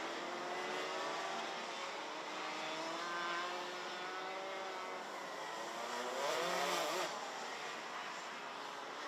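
Racing karts in a senior heat at the Genk circuit in Belgium, engines whining steadily as they brake and sweep through a corner, a continuous mid-distance drone that swells slightly near the end.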